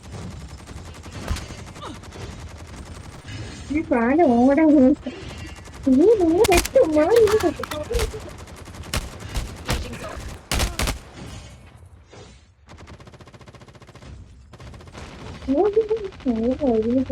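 Bursts of rapid gunfire crackle in Call of Duty amid sharp single shots, while voices talk excitedly over the action.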